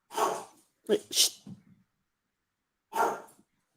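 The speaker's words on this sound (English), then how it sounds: "What's he barking at?" An old blind dog barks in short, sharp bursts, a quick cluster near the start and another single bark a little later, close and fairly loud with quiet gaps between.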